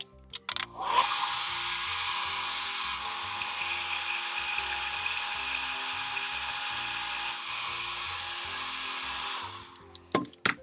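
A hair dryer, used to dry a watercolor painting, blows with a steady, loud whooshing hum for several seconds, clicking on and off with brief handling noises at each end.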